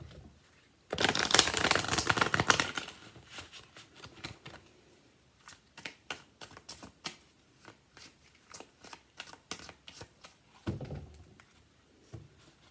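Tarot cards are riffle-shuffled in a loud burst, followed by a string of softer taps and flicks as the deck is squared and handled.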